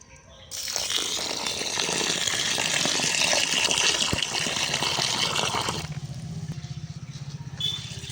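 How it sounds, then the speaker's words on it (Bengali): Water gushes into a large bowl of raw rice for washing. A loud, close, continuous pour lasts about five seconds, then drops off to a softer trickle and sloshing. "এবার একটু চালের মধ্যে জল দিয়ে দেব"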